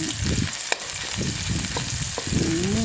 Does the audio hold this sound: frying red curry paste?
yes